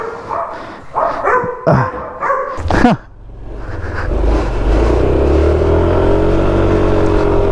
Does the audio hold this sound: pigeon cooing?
no